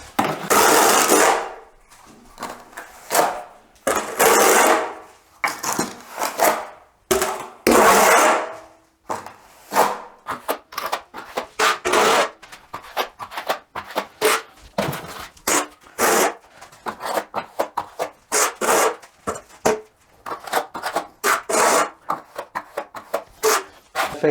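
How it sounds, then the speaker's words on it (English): A steel trowel pushes and scrapes wet render onto the edge of a brick wall, with repeated close, gritty scraping strokes and slaps in irregular bursts and no talking. "what I do is I just sort of stick a lot on my trowel and kind of push it really quickly"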